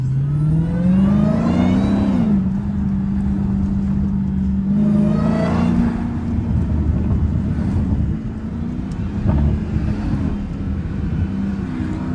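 A Dodge Hellcat engine with the hood off, revving loudly and close, the pitch climbing and falling in repeated pulls before settling to a deep rumbling idle, in a snowy setting.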